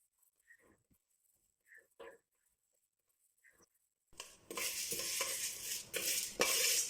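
Chana dal and urad dal fry in a pan, a dense sizzle with stirring scrapes that starts abruptly partway through, after a quiet stretch with a few faint voice fragments and soft knocks.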